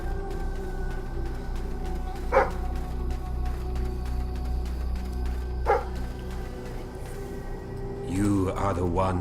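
A dog in the video game Fable 3 gives a couple of short barks, a few seconds apart, over a steady hum of game ambience, with a longer whimpering yelp near the end.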